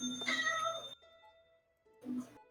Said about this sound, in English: Oh, pet the kitty.